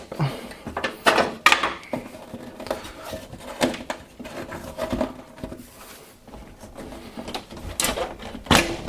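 The front panel of a Fractal Pop Silent PC case being gripped and pulled off, heard as a series of sharp plastic clicks and knocks with shuffling handling noise between them, close and fairly loud.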